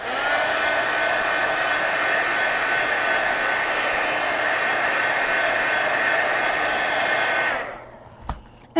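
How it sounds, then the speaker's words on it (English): A hair dryer blowing steadily on the back of watercolor paper, a loud, close, continuous whooshing hum that runs unbroken for several seconds, then cuts off and is followed by a couple of small knocks. "you can kind of blow dry it from the back"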